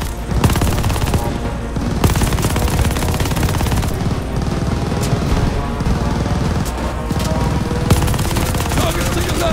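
Sustained bursts of light machine gun fire in the Call of Duty: Vanguard video game, rapid and loud, continuing almost without break, with other battle noise mixed in.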